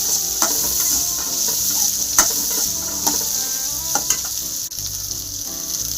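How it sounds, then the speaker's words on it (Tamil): Small onions sauté in oil in a pan for a chicken curry, making a continuous loud sizzle broken by sharp stirring clicks and scrapes. No one speaks. "சின்ன வெங்காயம் ஒரு கண்ணாடி பதம் வதங்கட்டும்"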